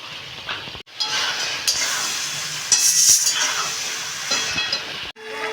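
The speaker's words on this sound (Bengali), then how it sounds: "এবার এর মধ্যে ফুলকপি দিয়ে দিচ্ছি ফুলকপিগুলো কিন্তু ভাজা না সঙ্গে এখন ভেজে নিতে হবে" Cauliflower fries with spices in a pan, giving a continuous hissing sizzle. Stirring scrapes and clatters run through it, with brief pauses where the sound drops out.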